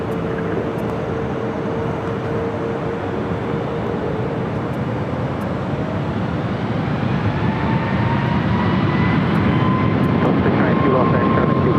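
A Southwest Airlines Boeing 737 MAX 8 takes off at LAX, its steady jet roar filling the air and swelling slightly as a rising whine emerges over the engine noise.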